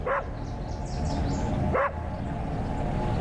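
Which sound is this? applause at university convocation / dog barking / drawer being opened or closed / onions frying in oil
dog barking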